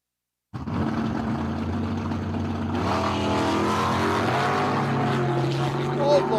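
Drag racing vehicles at a dragstrip, including a 65 Nova and an Oldsmobile, launching and accelerating hard, a loud sustained engine roar with rising pitch that begins abruptly and continues steadily.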